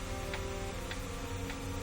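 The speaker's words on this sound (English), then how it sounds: "The ticking of the clock," A clock ticks steadily in a quiet, menacing room, each faint tick spaced about half a second apart over a low ambient hum.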